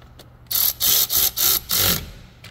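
Ratchet wrench tightening a car battery terminal connection: four quick bursts of loud, close clicking strokes in a row, with brief pauses between them and no talking.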